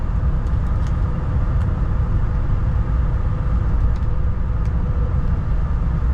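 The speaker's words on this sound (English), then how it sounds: "A 78 Lincoln Town Car to corner. Very luxurious. really a smooth running car." A 1978 Lincoln Town Car four-door sedan cruising smoothly, its steady low engine and road rumble filling the cabin continuously with a few faint clicks on top.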